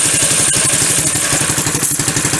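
A kids' Dinli ATV engine idles steadily, a loud, close, rapid chugging throb with faint mechanical clatter and no voices.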